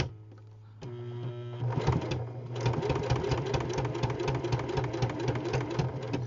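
A sewing machine stitches through three layers of fabric, starting with a low hum and then settling into a loud, fast, steady mechanical rattle of needle strokes.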